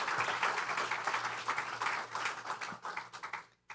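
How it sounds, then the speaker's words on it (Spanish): Church congregation clapping during a Sunday service: a lively round of applause with distinct claps that gradually thins, breaks up and stops near the end, a low held organ or keyboard tone beneath. "Un aplauso al Señor"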